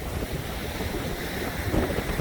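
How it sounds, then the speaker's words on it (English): Steady, heavy wind roaring and buffeting the microphone on a Lake Erie beach at Headlands Dunes State Park, Ohio, with a faint wash of water underneath and no voices. "You can see I'm here on a windy day"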